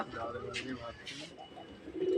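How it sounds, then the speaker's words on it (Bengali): Soft pigeon cooing, a few low murmuring calls close by, with faint voices in the background. "পায়রা উড়ছে"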